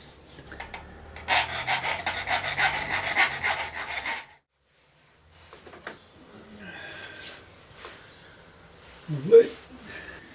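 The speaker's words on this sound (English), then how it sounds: "Just need to file the burrs off, make it a bit more finished" Rhythmic rasping strokes of a file removing burrs from a freshly sawn mountain bike part, close and moderately loud for a few seconds, then quieter scraping and handling noises.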